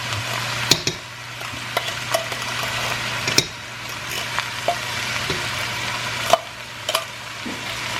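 Steady sizzling and frying hiss from a pan while cooking stuffed peppers, with occasional sharp clinks and scrapes of a utensil stirring.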